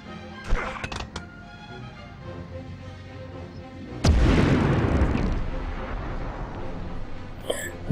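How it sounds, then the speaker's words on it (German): A grenade explodes in the PS1 game Medal of Honor, a sudden booming blast midway through followed by a long rumbling decay, after some earlier clicks and thuds, with no voice over it. "Kann ich genau, haargenau die Granate da reinwerfen?"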